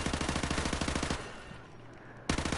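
Rapid automatic gunfire in a video game, a fast burst of evenly spaced shots for about a second, then a pause and a single loud shot at the end, close and sharp.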